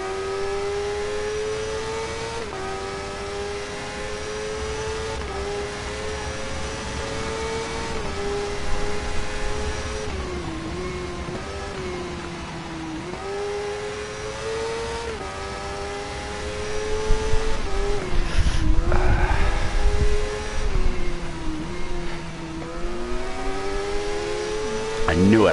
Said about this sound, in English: I can hear the motorbikes behind me.